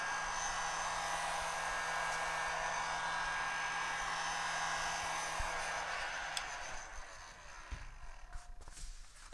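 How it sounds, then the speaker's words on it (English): Heat gun blowing on craft foam for a firefighter helmet, a faint steady airy whoosh that runs for several seconds, then trails off into light handling noises near the end. "We're going to take this heat gun,"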